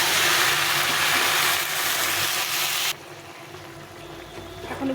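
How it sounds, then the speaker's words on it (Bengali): Mustard paste water poured into a pan of cooking jackfruit seeds and Malabar spinach, giving a loud, steady rushing splash for about three seconds before it drops to a quieter bubbling simmer. "এখন দিয়ে দেবো এই সর্ষে বাটা জলটা"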